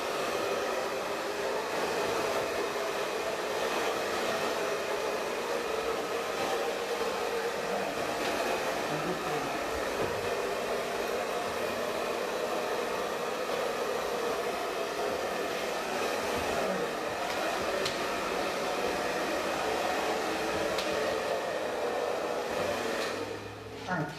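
A hair dryer blows steadily on short layered hair, a loud, unbroken whooshing roar held close for the whole stretch before cutting off at the very end.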